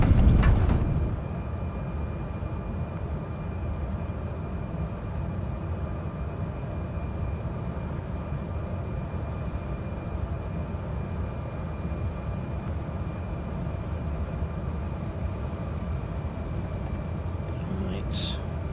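An airliner takes off in a flight simulator, its engines a loud, steady roar with a sharp clunk at the start, sustained rumble throughout.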